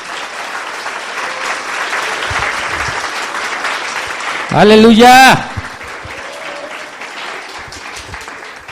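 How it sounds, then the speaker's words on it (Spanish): A church congregation claps together during a service, a steady wash of applause throughout, with a loud voice shouting out briefly in the middle. "Si le vamos a aplaudir,"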